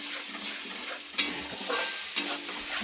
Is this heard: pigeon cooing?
no